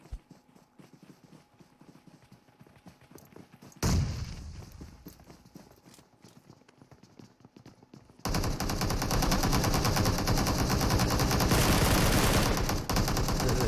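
Gunfire in the mobile game PUBG Mobile: scattered faint shots and a sharp burst at first, then a loud, dense sustained volley of rapid automatic fire that fills the last few seconds.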